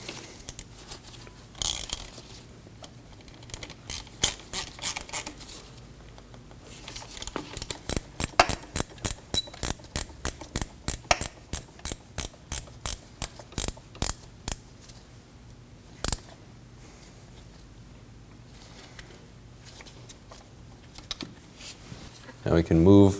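A ratchet snugs down bolts on a 2003-2006 Subaru Baja neutral safety switch, making a long run of rapid, evenly spaced close clicks with pauses between bursts. Quiet talk comes before and after.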